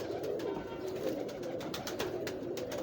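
A pigeon coos softly amid a constant background murmur, with faint clicks and rustles scattered throughout.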